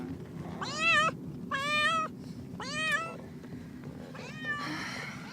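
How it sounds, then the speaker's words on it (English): A cat meows four times in a row, loud and close, each cry drawn out and wavering, with a steady low rumble underneath. "You are being the most dramatic cat."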